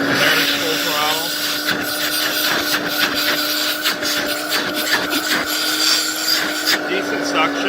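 A vintage 1960 Lady Kenmore Kenkart vacuum cleaner runs at full throttle, giving a loud, steady motor whine with a constant airflow rush and a few light rattles, close by and unbroken.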